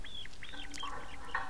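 Several hens clucking and calling in a cage, with chicks nearby, short overlapping clucks and squawks close by in a steady background hiss.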